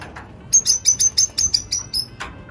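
Lovebirds and budgies in an outdoor cage give a quick run of bright, sharp chirps, about ten in a row, close and clear over a quiet background.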